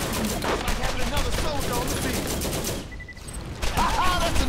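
Rapid bursts of gunfire against swarming bugs in the video game Borderlands, loud and dense across most of the clip, dropping briefly before resuming, with a voice speaking faintly underneath.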